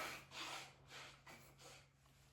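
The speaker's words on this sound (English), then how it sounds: "blow my nose" Someone blows their nose into a tissue during a qi gong breathing exercise for allergies and sinus relief, making three soft airy bursts, close but faint.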